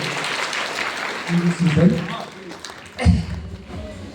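A seminar audience in Araria claps, a brief burst of scattered applause near the start, followed by a speaker addressing the crowd through a sound system.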